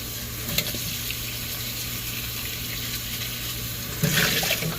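Portobello mushroom caps rinsed under a running tap, a steady broadband hiss of flowing water with a brief louder splash near the end, close and moderately quiet.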